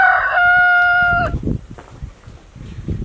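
A desi rooster gives a loud, close, drawn-out crow lasting just over a second, followed by softer rustling and low thumping sounds.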